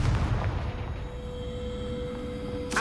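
Confringo blasting spell explosion in Hogwarts Legacy, a loud booming burst at the start that rolls off into a lingering tonal hum, with a second sharp hit at the very end.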